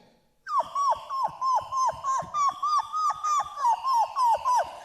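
A voice imitates a dog, barking in a steady run of about fifteen evenly spaced yelps, close and loud.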